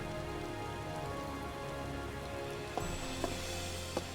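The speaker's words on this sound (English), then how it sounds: "What a time for it to start raining." Rain falling in the video game Final Fantasy XIV: steady rain patters on surfaces, with a few faint clicks near the end. It is continuous and fairly quiet, with no talking.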